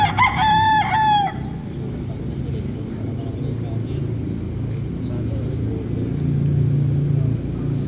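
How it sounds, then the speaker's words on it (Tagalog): A rooster crows loudly at the start at a cockfighting arena, San Juan Coliseum in Manila, then a steady crowd-like rumble and murmur of background noise continues without further crowing. "So ayan yung manok"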